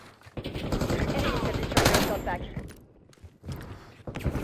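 Gunfire rattles in a Call of Duty: Black Ops 6 Face Off match, with fast automatic bursts and a louder cluster of shots midway, then quieter scattered fire.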